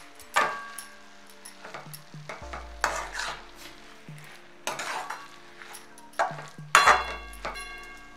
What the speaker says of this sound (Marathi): आता ह्याच्यामध्ये आपण चवीनुसार मीठ टाकून घ्यायचं, हे पण हलवायचं सगळं व्यवस्थित